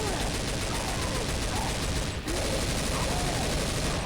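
Dense, continuous volleys of gunfire in a zombie survival video game roar without a break, loud and saturated, with a single brief dip partway through.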